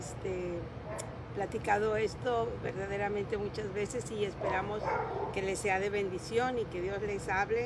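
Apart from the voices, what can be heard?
dogs barking at an RV park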